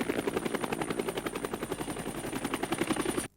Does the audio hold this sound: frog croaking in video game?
no